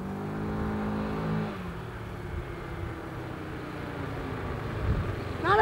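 A Honda vehicle pulls away with its engine accelerating, a strong revving drone near the mic that falls into a steadier run after a second or so and rises again at the end.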